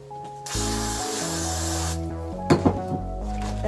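A steady hiss of hair spray runs for about two seconds, close up, onto a braided ponytail, followed by a few soft knocks and handling sounds.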